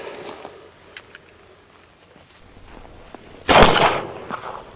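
A gunshot strikes a Do-All Outdoors Blast Back steel target, one loud sharp crack with a ringing tail late in the clip, preceded by a few faint distant pops over quiet outdoor ambience.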